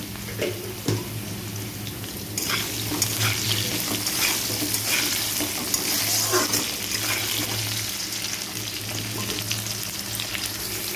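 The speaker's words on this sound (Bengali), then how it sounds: "দেখো আলুটা আমার লাল লাল করে ভাজা হয়ে গেছে" Salted potatoes frying in a pan of hot oil, giving a steady, close, crackling sizzle with a light stirring scrape that runs unbroken throughout, no voices.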